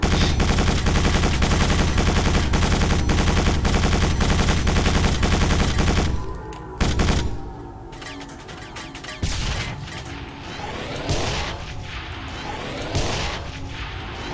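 Automatic weapon fire from turrets in the Quake 4 video game, a loud continuous rattling stream of shots for about six seconds, followed by scattered single blasts and impacts.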